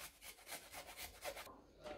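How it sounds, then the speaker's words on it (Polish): Fresh ginger root, about 5 cm of it, is rubbed against a kitchen grater in quick, even rasping strokes, a steady scratchy rhythm close by with no talking. "Następnie na tej samej tarce ścieramy imbir, około 5 cm"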